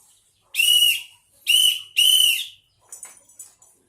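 Three sharp, shrill whistle blasts from a tour guide's signal whistle, the second and third close together, followed by a few faint, softer chirps.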